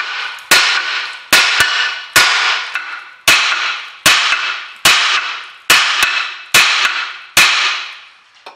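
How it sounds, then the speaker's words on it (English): Hammer taps on rusty rear brake parts of a Citroen C5, about ten sharp metallic knocks at a steady, roughly one-per-second pace, each ringing briefly and close by with no talking. "give them a couple of taps with the hammer"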